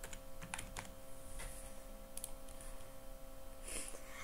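Someone types into a search bar on a computer keyboard, a few close, sparse key taps and clicks against quiet room noise, with no voices.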